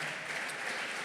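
A church congregation applauds during a family worship service: dense, steady clapping from a crowd, fairly loud and continuous with no voices above it.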